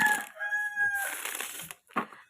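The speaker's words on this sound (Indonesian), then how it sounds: "Ayamnya siang-siang berkokok ya." A rooster crows at midday, a nearby drawn-out call with a sustained, wavering tone, followed by a few shorter rough clucks before it trails off.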